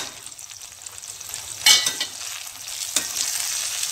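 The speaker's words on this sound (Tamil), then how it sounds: "போட்டு நல்லா வதக்கணும் தனியாத்தூள் போடணும்" Spices sautéed in a pan for coconut kulambu, a soft continuous sizzle broken by sharper hisses and scraping stirs, close and alone without talk.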